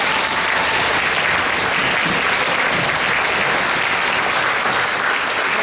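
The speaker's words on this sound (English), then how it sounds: "can we give all our orchestra like another round of applause?" Loud, sustained applause for a middle school orchestra at a grand finale concert, dense and even clapping from a large crowd that holds steady throughout without a break.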